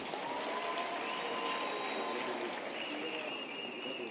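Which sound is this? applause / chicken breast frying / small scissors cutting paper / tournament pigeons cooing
applause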